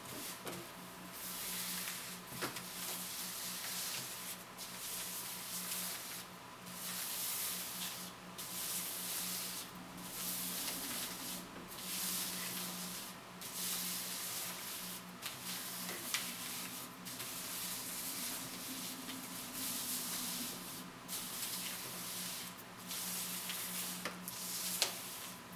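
Tarot cards being shuffled and slid around on a table, a steady soft rubbing and riffling texture that continues for the whole stretch, fairly close and unaccompanied by voices.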